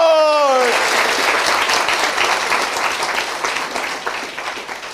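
A church congregation bursts into loud, dense applause after a voice cuts off at the start, the clapping sustained throughout and gradually easing toward the end.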